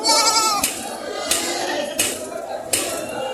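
Goats at a livestock market in Padre Garcia, Batangas, bleating loudly and close by, four drawn-out calls in quick succession.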